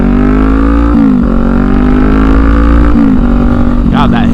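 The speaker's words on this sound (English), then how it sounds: "God, that Hindle exhaust just sounds so good, guys." A Kawasaki Ninja 400 motorcycle fitted with a Hindle exhaust idles and revs loudly and up close, its raspy tone dipping briefly twice before rising in a final rev.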